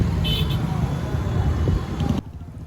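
Heavy Friday night road traffic in Chennai at Perungalathur, a dense low rumble of engines with a few short horn toots, close and continuous before dropping away near the end.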